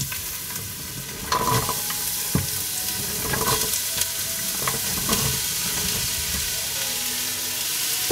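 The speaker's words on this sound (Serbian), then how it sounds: "Na zagrejano ulje spuštam iseckani luk i celer." Chopped onion and celery dropped into hot olive oil in a pot, bursting into a loud sizzle with stirring clatter, then settling into steady frying.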